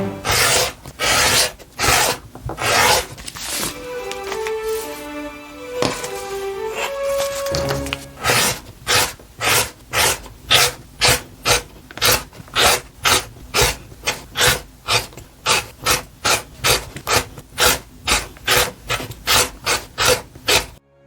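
Quilt block fabric being trimmed with a steady series of rhythmic rasping strokes, loud and close, with a brief stretch of musical tones partway through.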